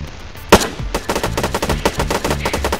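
Arma 3 gunfire rattles in a steady rapid automatic burst, loud and close, opening with one sharp crack before the repeated shots run on alone.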